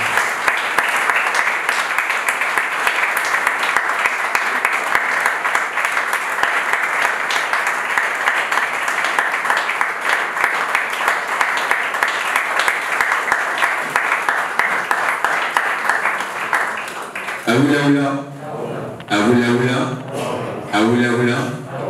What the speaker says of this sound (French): sous vos applaudissements et vos mots